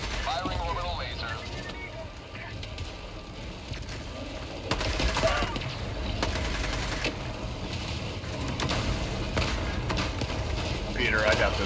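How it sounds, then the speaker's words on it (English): Orbital laser strike in Helldivers 2 against a giant walker: a sustained roaring, crackling blast builds from about five seconds and carries on loud to the end, with gunfire, mechanical clatter and people talking over it. "Firing orbital laser."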